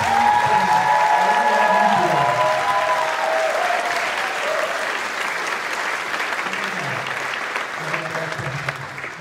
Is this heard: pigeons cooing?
no